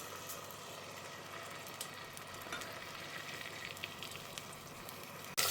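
A ground paste of ginger, garlic, green chilli, coriander, curry leaves, cinnamon, clove and cardamom frying in hot oil and ghee for mushroom biryani, a faint steady sizzle with soft crackles, then a brief louder clatter at the end.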